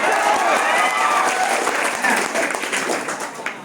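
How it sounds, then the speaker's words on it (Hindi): A classroom of students applauds a classmate's correct answer, dense continuous clapping filling the room and tapering slightly toward the end, with some voices mixed in. "जबरदस्त ताली होनी चाहिए।"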